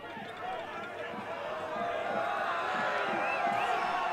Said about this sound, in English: We can hear the crowd in the background just really trying to inspire these young players